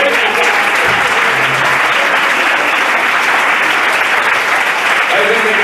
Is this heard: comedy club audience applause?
yes